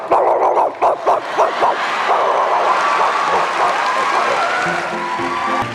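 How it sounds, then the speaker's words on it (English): A dog barks in a rapid run of sharp yaps near the start, amid a busy, noisy backdrop with whimpering tones later. "Dog."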